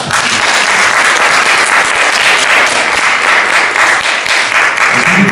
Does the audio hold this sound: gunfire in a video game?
no